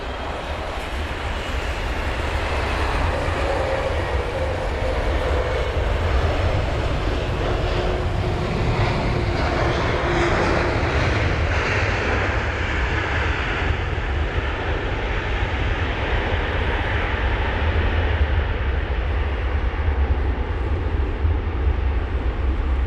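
A United Boeing 767-300ER on approach to runway 27 right at London Heathrow in Storm Henk, a steady broadband jet roar that swells and holds under heavy wind and rain noise throughout, with no voices.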